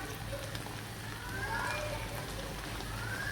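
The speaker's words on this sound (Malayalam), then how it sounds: "ഒരു കുറച്ച് സവോള അരിഞ്ഞ് നന്നായിട്ട് സ്ലൈസ് ആയിട്ട് അരിഞ്ഞതും കൂടെ ഇങ്ങനെ ഇട്ട് കൊടുക്കാം" Sliced onions fry with beef in a pan for Kerala-style beef ulathu, giving a soft, steady crackling sizzle like light rain, close and moderately quiet, with a low hum underneath.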